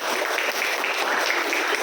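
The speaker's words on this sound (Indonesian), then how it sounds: "berikan tepuk tangan untuk bagi kita" Teachers at Darunnajah 3 in Serang, Banten clap together at a motivational session, a dense, steady burst of applause filling the room for its full length with no talk over it.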